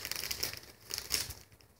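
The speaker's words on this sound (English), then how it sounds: "I'm just gonna open it with my scissors." Plastic Trolls blind bag being cut open with scissors, giving soft crinkling and snipping rustles in a few bursts, fairly quiet and close, with no talking.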